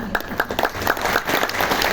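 Scattered applause from a crowd at a Hindu religious discourse on Gita Jayanti at a Delhi ashram, with brief rhythmic claps rising out of a dense wash of hands that holds steady through the moment.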